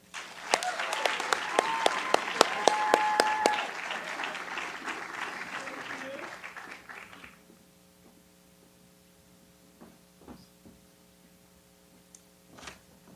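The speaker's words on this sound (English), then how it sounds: "Please join me in giving a big round of applause to Mackenzie for all she's done on this camp" Audience applause at a college leadership awards ceremony, a dense burst of clapping for about seven seconds that fades out, leaving a quiet room with steady hum and a few faint knocks.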